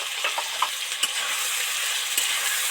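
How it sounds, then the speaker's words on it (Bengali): Ginger, radhuni, cumin, coriander and chilli powder sizzle steadily in a pan for a vegetarian cabbage chorchori, with a few short scraping stirs cutting through the hiss; no one speaks. "আদা রাঁধুনি জিরে ধনে মরিচ গুঁড়ো দিয়ে ভালো করে ধরে ধরে ভাজতে থাকবো"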